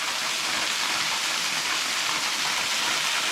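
A small waterfall at Twin Falls Resort State Park, a steady, close, broadband rush of falling water that holds evenly throughout with no voices.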